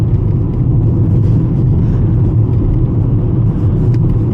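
A VW Golf 5 drives along a country road in rural Ireland, a loud, steady low rumble of tyres and engine with no gaps or voices throughout.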